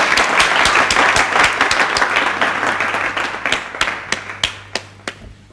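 Loud audience applause following a 5000-rupee donation pledge at a charity gathering to aid needy students, dense clapping that thins out toward the end into a few scattered claps.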